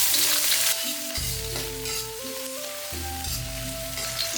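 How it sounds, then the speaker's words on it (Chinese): Scallion, ginger and garlic hit smoking-hot cooking oil in a wok, giving a steady bright sizzle and hiss throughout, with tuneful background music running underneath. "锅烧至冒烟之后，加入食用油，加入葱姜蒜爆香"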